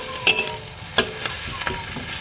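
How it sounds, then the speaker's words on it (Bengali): Onions and slit green chillies fry in hot oil, a continuous soft sizzle broken by sharp scrapes and clinks of a spatula stirring in the pan, no one speaking. "এইভাবে এক মিনিটের মতো পেঁয়াজটা ভেজে নেব"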